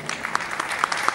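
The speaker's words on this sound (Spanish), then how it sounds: "Recibamos con un fuerte aplauso" A crowd claps steadily at an awards ceremony for a children's health contest, dense even applause filling the whole moment.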